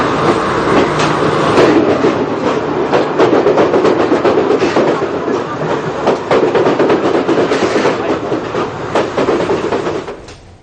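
A commuter train runs along the rails with loud, continuous rumble and rhythmic clickety-clack of wheels, heard close and steady without any talk.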